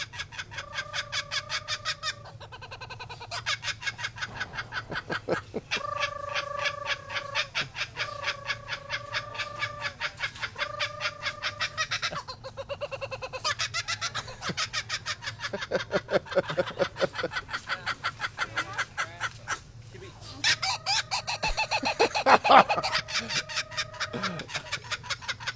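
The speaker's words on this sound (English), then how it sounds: "The Symbio Wildlife Park shows a kookaburra laughing uncontrollably." A kookaburra at Symbio Wildlife Park laughing uncontrollably: long runs of loud, rapid cackling bursts that rise into hooting peaks, stop briefly and then start again.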